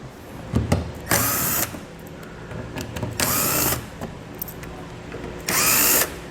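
Power drill or impact driver with a 7mm socket backing out bolts on a Roadmaster base plate mount for a 2021 Buick Encore, three loud whirring bursts of about half a second each separated by quieter gaps.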